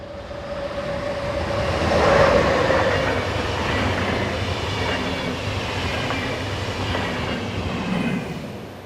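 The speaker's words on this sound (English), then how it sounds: "101093 heads south with train IC 185 from Stuttgart to Zurich." Electric locomotive 101093 hauls intercity train IC 185 from Stuttgart to Zurich past at speed, a loud steady rumble of wheels and carriages with brief squeals and rhythmic clatter, no voices.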